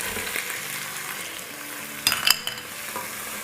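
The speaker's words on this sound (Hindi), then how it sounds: "चिकन को और अदरक लहसुन को 2 मिनट तक अच्छे से भूनेंगे।" Bone-in chicken pieces with ginger and garlic fry in a pan for soup, giving a steady sizzle broken by a brief burst of stirring scrapes near the middle, with no voices.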